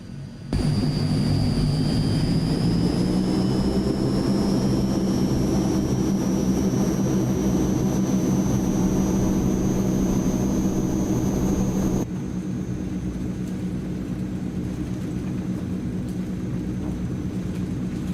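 Twin turboprop engines of a Transall C160 cargo plane in Microsoft Flight Simulator drone steadily through a takeoff roll, a loud continuous roar with a high whine on top, dropping slightly in level near the end.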